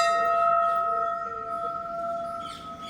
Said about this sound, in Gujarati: અહીંયા બી ઘંટ છે એટલો જ મોટો આપણે વગાડી લઈએ ઘંટ